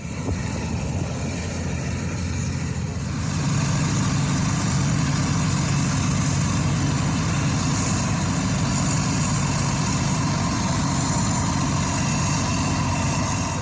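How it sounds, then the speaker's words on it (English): A former Coast Guard hovercraft's lift engine runs steadily and loudly at close range, a dense continuous drone that swells after a few seconds and then holds even, with no voices. "You got your lift engine, you cranked up your lift engine."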